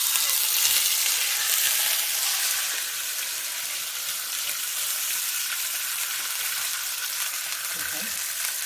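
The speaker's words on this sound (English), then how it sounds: "The brisket is browning on the first side" Brisket browning in an oiled pan: a constant, close hiss of frying fat that holds steady throughout without pauses.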